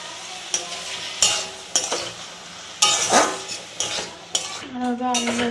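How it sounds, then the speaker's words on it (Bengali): Spice paste being fried down in a pot for khichuri, with the rice and lentils already boiled, heard as a steady sizzle broken by repeated loud scrapes and clanks of a spoon stirring against the metal, close up and with no talking. "আর এখানে মশলাটা কষানো হচ্ছে"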